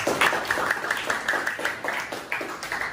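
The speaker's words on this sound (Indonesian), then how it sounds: "tepuk tangan buat kita" Schoolchildren in a classroom give a short burst of rhythmic clapping together, a series of evenly spaced group claps, fairly near and moderately loud.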